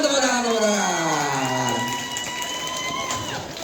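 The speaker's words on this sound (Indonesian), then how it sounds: "Tepuk tangan." Classroom crowd at a school quiz competition cheering and clapping, with excited children's shouts and whoops over continuous applause, loud and close throughout.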